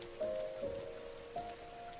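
Steady rainfall in the PS3 game Rain, a soft, even patter heard alone with faint tonal music lines running through it.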